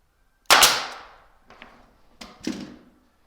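Nail gun shots fastening a window sill during a DIY window trim install: a sharp loud crack with a decaying tail, then two weaker snaps about a second and a half later, close up with no talk.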